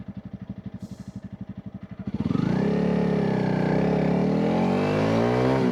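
A Honda CRF 300 Rally motorcycle idles with a steady pulsing thump, then the throttle opens and the engine roars up, rising steadily in pitch as it pulls hard through the gears, loud and close.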